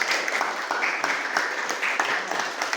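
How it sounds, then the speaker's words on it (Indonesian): An audience claps in a classroom-style session, a dense, steady patter of many hands with sharper individual claps standing out, fairly close and loud. "bagi tepuk tangan"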